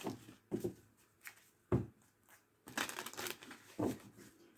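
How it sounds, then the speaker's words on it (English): A deck of tarot cards is shuffled by hand in quiet, close bursts of papery riffling and rustling, separated by short pauses. "All right, one more shuffle."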